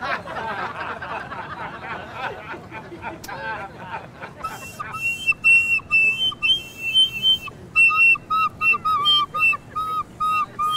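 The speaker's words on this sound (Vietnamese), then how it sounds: "Tôi thổi dở lắm sao mà ai nghe tiếng sáo của tôi cũng sao lánh tôi vậy trời." A bamboo flute plays a run of high, clear whistled notes in the second half, loud and close, with short gaps between phrases; laughter and a babble of voices come before it.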